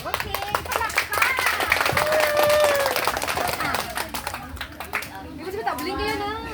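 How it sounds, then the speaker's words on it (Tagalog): An audience claps in a rapid, crowded patter while voices call out and chatter loudly over it, then the clapping thins and a voice rises near the end. "Okay, palakpak!"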